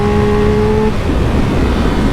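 A Triumph Speed Triple RX motorcycle engine holds a steady tone, then drops into a rougher, broadband rumble as it rolls on, close and loud, with no talking.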